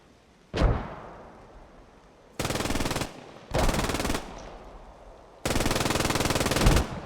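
Gunfire in the Post Scriptum war video game, with one sharp close shot followed by three long, loud sustained bursts of automatic fire separated by brief gaps.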